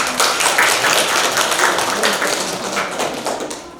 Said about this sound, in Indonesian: Aplaus untuk nomor 1